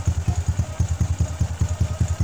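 A 125cc motorcycle engine, such as an RS125, Wave 125 or XRM125, runs after a top overhaul with a new block, idling close and loud with a steady, rapid, even thumping pulse.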